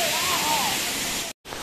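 Kakochang waterfall roars as a steady broadband rush of falling water, close and fairly loud, cut off abruptly by a brief gap before resuming.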